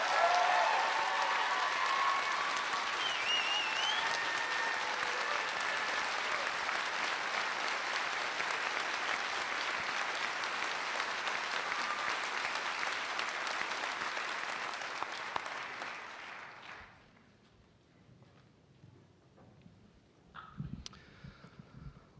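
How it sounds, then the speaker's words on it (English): An audience gives sustained, loud applause for a newly graduated astronaut class, dense clapping that holds for about fifteen seconds before fading out, followed by a few scattered sounds. "Ladies and gentlemen, one last applause for our newest astronaut class."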